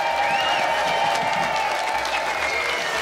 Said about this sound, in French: c'est le moment d'applaudir, mais très chaleureusement